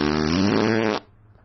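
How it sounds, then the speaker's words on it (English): A loud, close fart, a single sustained buzzing blast of about one second that cuts off abruptly and is followed by quiet. "suck the fart out of my ass"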